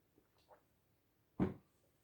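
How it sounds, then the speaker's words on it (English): A single short sip of water taken from a glass or cup near the microphone: one brief, fairly loud slurp-like burst after a few faint small sounds in an otherwise quiet room. "I'm going to get a little sip of water here real quick."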